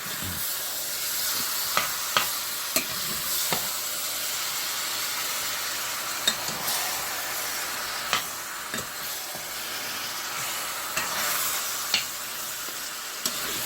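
Pork ribs sizzle with brown sugar and onion in a hot pot, a steady loud frying hiss. A spoon or spatula stirs them, giving sharp scrapes and knocks every second or two. No one speaks.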